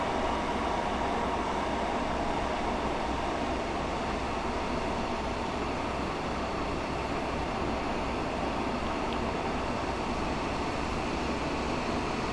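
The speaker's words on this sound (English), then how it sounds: "We'll start putting in our braking now, so then we can stop nice and snug into the train station" A Class 150/2 diesel train runs from Penzance to St. Austell in snow, braking on the approach to a station, with a loud, constant rumble and hiss of wheels and engine throughout, no voices.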